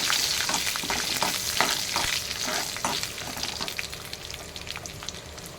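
Ingredients for a Telugu-style chutney made from veldt grape stems sizzle and fry in a pan, a close, steady crackle with scraping stirring strokes that slowly fades toward the end.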